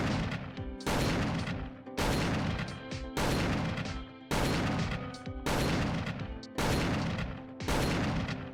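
Shotgun in the Roblox game ERLC fired at a close range target, seven loud booming blasts at a steady interval of about a second, each ringing out briefly before the next.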